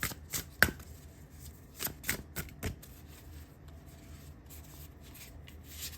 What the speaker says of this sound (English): let me shuffle the cards and see what comes out